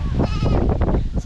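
A goat on a farm gives one close, loud wavering bleat lasting about a second, with no speech over it.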